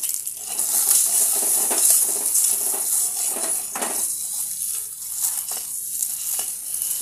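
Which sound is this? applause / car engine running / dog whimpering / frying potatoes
frying potatoes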